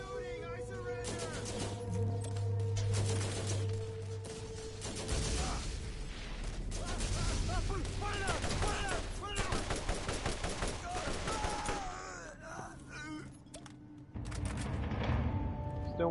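Rapid turret gunfire in the Borderlands shooter game: repeated bursts of loud shots and machine-gun rattle across the whole stretch, mixed with game sounds and voices talking.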